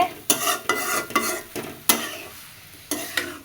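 Cooked rice being mixed with curry gravy in a pot: loud, close spoon strokes scraping and squelching through the rice in an irregular rhythm, with brief pauses between stirs.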